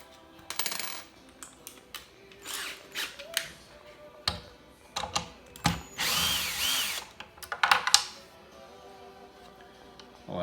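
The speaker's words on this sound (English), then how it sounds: "So I just put a socket on a little extension for the drill, and it works just fine." A cordless power drill fitted with a 10 mm socket on an extension spins downrigger bolts loose on a Cannon Mag10, with repeated short whirring bursts, ratcheting clicks and metal clinks close by.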